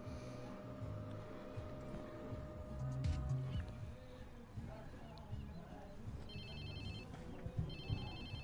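Within the video game Watch Dogs 2, a phone rings in short repeated electronic bursts over a busy game soundscape, with voices talking underneath.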